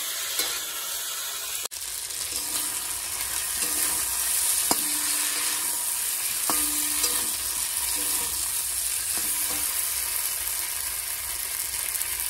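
Meat braising in spices in a pan sizzles in a dense, continuous hiss at close range, with a few faint metallic taps and clicks from the pan.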